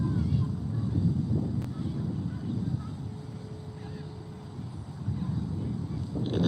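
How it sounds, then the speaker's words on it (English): Steady outdoor wind in Gulfport rushes and buffets against a microphone, a continuous low broadband roar with gusts swelling and easing throughout. "To note the sensation of the wind on our face, the intensity of the wind"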